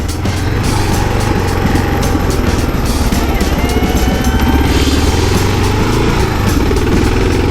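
A KLR dual-sport motorcycle rides down a road with a loud, continuous engine drone and a steady throb, close up and constant throughout.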